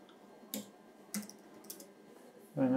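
A few scattered computer keyboard key presses, faint and sparse clicks spaced apart with a louder tap at the end, in a quiet room without talking.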